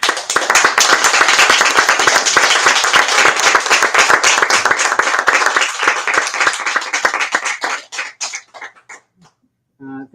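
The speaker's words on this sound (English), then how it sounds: "Well, another giant round of applause." Audience at a book talk breaks into sustained applause, dense clapping that holds for several seconds, then thins to scattered claps and fades out near the end.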